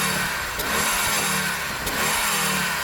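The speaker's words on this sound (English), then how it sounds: "I'm going to start by revving up this old Quattro 20 valve." An old 1980s Audi Quattro 20 valve engine, with no catalytic converter or particulate filter, gives a brief, close rev that rises and falls quickly.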